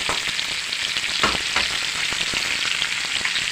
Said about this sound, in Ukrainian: Так, цибулька вже така золотистого кольору, я не дуже зажарюю